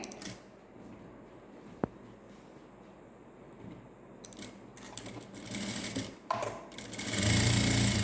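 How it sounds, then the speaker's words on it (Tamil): A sewing machine stitches canvas cloth onto the lining of a net-neck blouse. Quiet handling noise comes first, then brief whirring bursts, and a loud, steady close-up run of stitching near the end. "இந்த லைனிங் கிளாத் மேலே நான் இந்த கேன்வாஸ் கிளாத்தை வச்சு ஸ்டிச் பண்ணிகிட்டே வரப்போகிறேன்"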